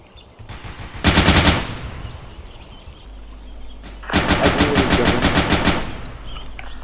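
Bursts of automatic gunfire in the tactical shooter Intruder, two long rapid volleys separated by a quieter gap with low rumble, loud and close.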